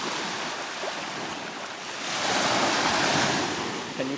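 Ocean surf rolls in steadily along a Long Island shore on a hiking day, a loud continuous wash of waves that swells midway, mixed with wind buffeting the microphone.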